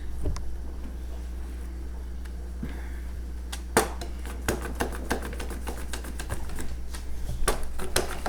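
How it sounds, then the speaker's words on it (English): Cucumbers are sliced for open kettle pickles, likely on a mandoline or cutter, giving a rapid run of sharp, close clicking chops that speeds up into a steady rhythmic series over a low background hum. "So, just slice your cucumbers."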